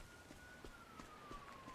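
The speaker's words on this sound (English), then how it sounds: "the sirens are distracting me for once" Emergency sirens wailing outside, distant and faint, a thin steady tone drifting slowly downward beneath soft rhythmic taps in a quiet room.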